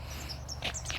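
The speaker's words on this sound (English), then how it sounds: "the birds are starting to sing, which is always good news" Birds chirp in short bright bursts over a steady low hum, a few calls scattered across a quiet outdoor background.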